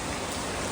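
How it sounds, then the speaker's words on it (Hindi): Heavy rain pours down in a dense, continuous hiss of drops. It is loud and close for under a second, with no voices. "अब इतनी मोटी बारिश आई थी, फिर आ गई देखो"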